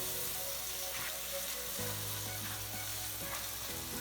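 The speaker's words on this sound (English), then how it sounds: "Next, I'm gonna add some tomato sauce. Let it cook." Tomato sauce simmers and sizzles in a pan for tofu tikka masala, a steady, close, fairly quiet frying hiss with soft bubbling and no one talking.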